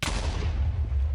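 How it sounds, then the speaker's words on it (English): A Minecraft arrow cannon fires with a single loud, deep booming blast that rumbles on for about a second with no talking. "I learned a new way of making a arrow cannon"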